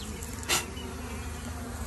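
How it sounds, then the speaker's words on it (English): Honey bees at a top bar hive buzz steadily around a queen bee, a close continuous insect drone with one brief louder swell. "let's shake the bees off of her"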